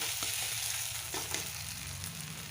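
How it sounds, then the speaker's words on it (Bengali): Soft, steady sizzling of dried fish paste frying in oil, close up, with a faint low hum underneath and no voices. "তেল বেরোচ্ছে আস্তে আস্তে ভাজা হচ্ছে"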